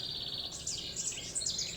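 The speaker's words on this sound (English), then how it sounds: "The birds are so loud." Birds sing loudly in a Southern California garden in the morning, with continuous high chirps and trills layered close together and no talking.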